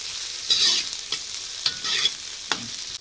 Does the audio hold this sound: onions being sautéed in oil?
yes